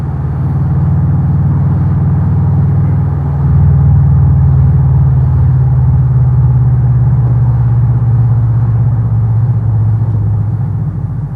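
An open supercar-rivalling car's engine gives a deep, steady drone under heavy wind rush, then swells louder a few seconds in as the throttle is floored and the car surges forward.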